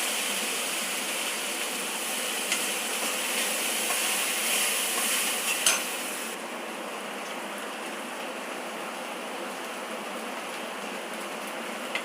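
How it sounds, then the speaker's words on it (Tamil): Sambar being poured into a cooking pot makes a steady, hissing splash of liquid that continues evenly, then softens somewhat partway through. "அப்படியே எடுத்து இந்த சாம்பாரை"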